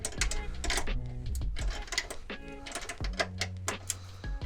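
A 12mm wrench tightening a bonnet strut bolt on a Subaru Forester SG, close metallic clicking and ratcheting in uneven bursts with short pauses, and no voices.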